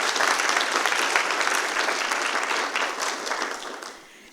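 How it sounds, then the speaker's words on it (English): At a school district board of trustees meeting, a room of people applauds honorees with a full, dense wash of clapping that holds steady and then tapers off toward the end, no voices over it. "Let's give them a round of applause."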